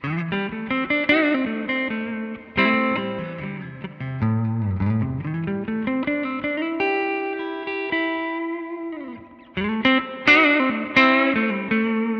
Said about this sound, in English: You can hear that spring reverb, it's lovely.